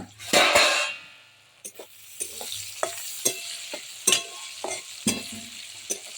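Bitter gourd slices frying in a covered pan as the lid comes off, a burst of sizzle followed by spatula scrapes and clinks against the pan over a soft fry.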